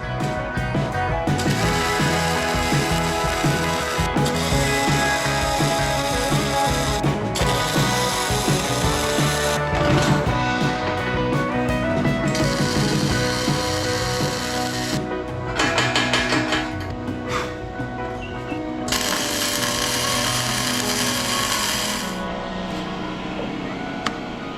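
Continuous harsh grinding on a homemade steel winch bar, loud and close, with steady abrasive rasping broken by brief pauses and shifts in pitch as the grinder works the metal.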